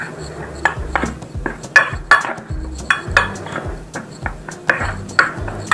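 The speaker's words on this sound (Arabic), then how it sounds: "ونقلب المكونات دي كويس مع بعض" Flour, baking powder and a pinch of salt are stirred together in a bowl, producing a close, irregular series of metallic clinks and scrapes from a utensil knocking against the sides.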